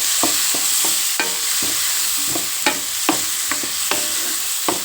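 Onions and green chillies frying in hot oil, a steady close sizzle broken by repeated sharp spatula scrapes and stirs against the pan.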